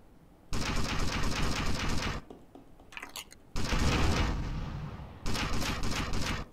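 Sniper rifle gunfire in the video game GTA Vice City, loud bursts of shooting broken by short gaps, with a brief clatter between them.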